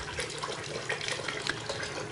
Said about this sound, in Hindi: 25 फुट पाइप में से भी ये पानी फ्लो कर सकता है और काफ़ी स्पीड है इसकी